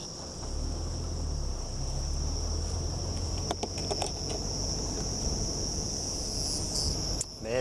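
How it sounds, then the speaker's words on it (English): Cicadas buzz in the African bush at dusk as a steady high drone running throughout, with a low rumble underneath and a few brief knocks near the middle. "There's the buzzing of the cicadas again"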